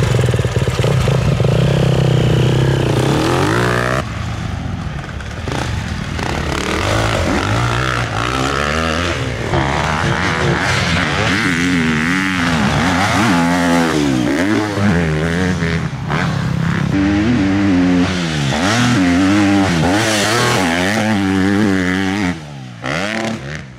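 A Honda dirt bike engine revs hard and continuously while being ridden on a spring snow pass at Mt. Hood, loud and close, with rising and falling pitch as the throttle opens and closes throughout.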